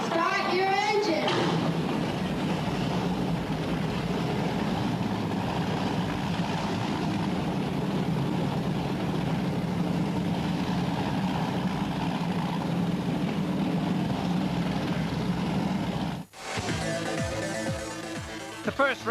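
Offshore racing powerboat engines run together in a loud, steady roar for about sixteen seconds, then cut off abruptly before a brief pause and a mix of voices and engine noise returns.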